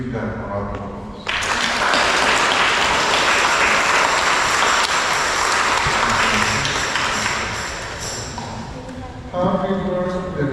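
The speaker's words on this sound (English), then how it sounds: "Let's give them a round of applause." Applause fills a church during Sunday mass, a dense sustained burst of clapping from the congregation that rises suddenly, holds, then fades, with voices heard before and after.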